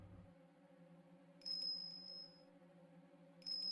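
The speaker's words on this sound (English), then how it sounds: "A bell." Bell chime from the video game Ace Attorney Investigations 2: Prosecutor's Gambit, set in a prison: two bright ringing tones, the first sustained for about a second, the second starting near the end, over a steady low background hum.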